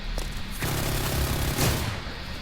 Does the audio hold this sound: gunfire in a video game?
yes